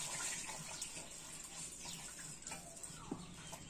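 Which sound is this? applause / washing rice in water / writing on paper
washing rice in water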